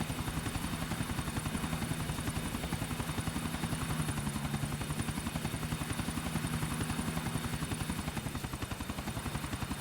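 Helicopter in Grand Theft Auto IV flying steadily, a continuous fast rotor chop over a low engine drone, even and unbroken throughout with no talk.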